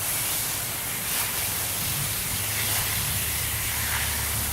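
A garden hose sprays steadily onto the pleated filter cartridge of an Intex 15' x 48" Ultra Frame above-ground pool, flushing out gunk in a continuous close, loud hiss with no talk over it.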